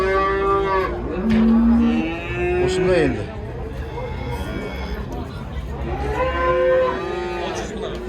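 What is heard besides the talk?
cattle and calves mooing at livestock market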